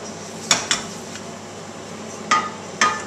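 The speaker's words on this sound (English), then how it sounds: "This is what we call shaving a spatula." A metal spatula is scraped clean against a hard edge in a kitchen, four sharp clinking scrapes in two pairs over a low steady background, no talk.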